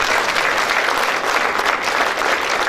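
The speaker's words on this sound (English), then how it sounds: "Can we clap our hands and say," A crowd at a charity event claps steadily and densely, a loud, continuous wash of applause that fills the room with no gaps.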